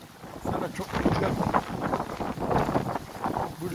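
Strong wind roars and buffets the microphone in steady gusts on Prater Strasse in Vienna, kicking up dust, with a voice talking underneath.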